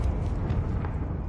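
A Confringo blast spell fires in the Hogwarts Legacy video game, giving a loud, rumbling explosive burst with heavy low-end boom that sustains for over a second with no voices.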